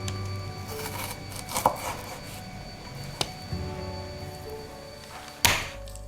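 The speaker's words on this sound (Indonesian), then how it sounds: "Bawang bombaynya dicincang kasar kayak gini ya." Onion being coarsely chopped with a knife on a board, a few scattered close thunks and chops with short pauses between them, fairly quiet against a steady background hum.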